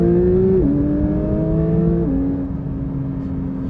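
A Porsche 992 GT3 with PDK gearbox pulls hard out of a roundabout, its loud rising engine note dropping abruptly twice as quick gear shifts snap through, heard from inside the car with no talk.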